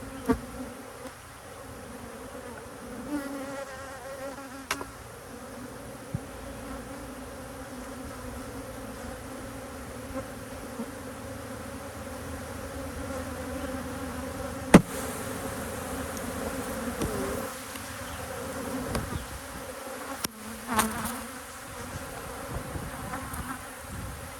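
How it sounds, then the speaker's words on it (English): Honey bees freshly shaken from a hive frame fill the air with a dense, continuous buzz. The swarm is close and steady throughout, with a few sharp knocks and clicks. "So I'm gonna shake all of these bees right in here."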